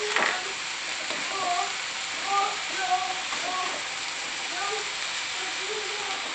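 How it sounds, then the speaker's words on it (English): A vegetable medley sautés in a pan with a steady, even sizzle throughout, and faint kitchen clatter and tonal sounds surface over the frying noise. "I've got a nice little veggie medley going on here. I'm gonna let these saute for a few minutes."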